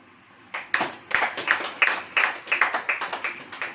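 At a church sermon, the congregation breaks into rhythmic hand clapping after a brief quiet start, the sharp claps repeating steadily and close by, with no speech.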